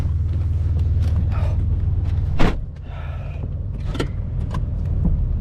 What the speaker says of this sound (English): Okay, we are misfiring again. The problem has come back.